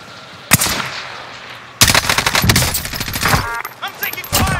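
Loud bursts of video game gunfire, sharp shots and rapid machine-gun volleys, crack close after a quieter stretch. They keep going in uneven clusters while a voice speaks over them.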